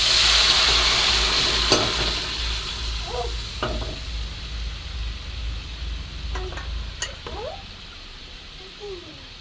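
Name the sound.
lentils poured into fried onions sizzling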